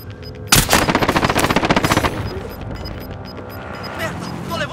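Call of Duty Warzone gunfire rattles out in a loud rapid automatic burst lasting over a second, followed by a fading echoing tail with fainter game sounds.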